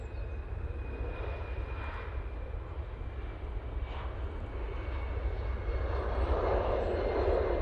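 A Ryanair jet departing Manchester Airport roars in a continuous, broad rumble that swells gradually louder toward the end, heard at moderate distance with no voices.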